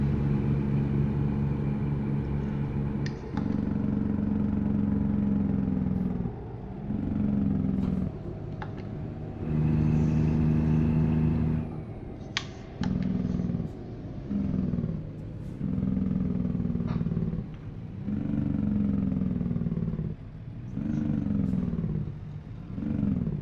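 A Kenworth truck engine in American Truck Simulator drones low and steady, rising through gears in repeated cycles with short pauses at each shift, a deep constant rumble with no voices.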